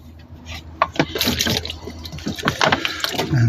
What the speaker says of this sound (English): So pop a bit of cold water on there.